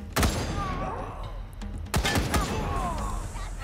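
Turret gunfire in the video game Wasteland 3, two sharp bursts of booming shots with thuds and ringing tails, close and loud, over game effects and a voice talking.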